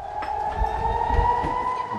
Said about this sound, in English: We've got a siren right now, and we've got to go in and take shelter because these things are dangerous.